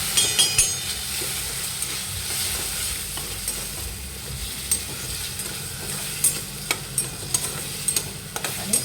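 Fried onions with garlic-ginger paste sizzle steadily in a pan for a chicken tandoori masala gravy, with sharp clicks and scrapes of stirring scattered throughout, close and fairly loud, no talking.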